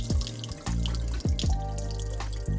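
Water trickles and drains out of soaked, softened dry dog food held back by a hand, a steady running pour with a few brief interruptions, close and fairly loud.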